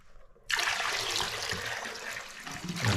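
Warm water pours out of a sous vide container into a sink, starting abruptly as a loud, steady splashing gush that runs continuously and close, with no talking.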